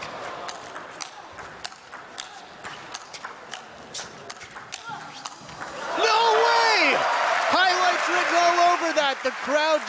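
Crowd applause breaks out at a table tennis match at the 2015 Polish Open, swelling loud after a run of ball taps and rally sounds, with a commentator talking over it.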